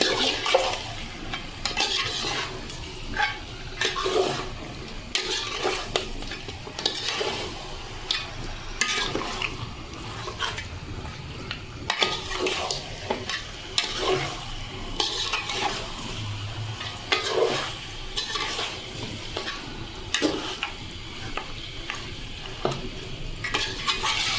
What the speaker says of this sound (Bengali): এখন ভালোভাবে নাড়ায় নেব